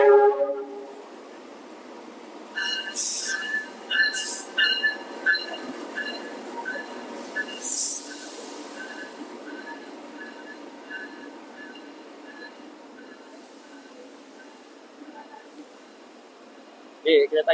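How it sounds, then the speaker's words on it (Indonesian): A Malabar passenger train rolls into a station at night in rain with a low rumble, screeching wheels and bright squeals and chimes, then slows and quiets as it comes to a stop. "Keretanya sampai."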